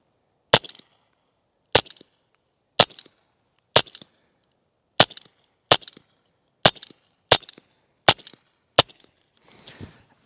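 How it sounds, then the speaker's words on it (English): A .22 pistol fitted with a Dead Air Mask 22 suppressor fires ten shots into dirt, each a sharp, loud crack spaced about a second apart, followed by a faint rustle. "I'm just gonna shoot them into the dirt so we can get the best sound."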